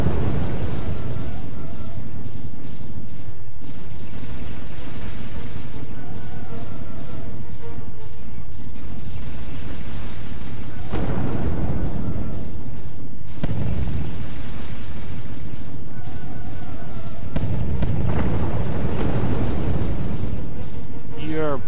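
Starships exploding in a space battle in Sins of a Solar Empire: Rebellion, a dense run of deep booms and bursts rolling under a continuous loud din, with someone talking over parts of it.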